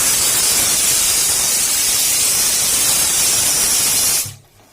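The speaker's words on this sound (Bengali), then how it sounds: "দেখো জিরে, তেজপাতা আর শুকনো লঙ্কা ফোড়ন দিয়েছে।" Cumin seeds, bay leaves and dried red chillies hit hot oil for a tempering while a bottle-gourd dal is being cooked at home, giving a loud, steady broadband sizzle that runs for about four seconds and then cuts off abruptly.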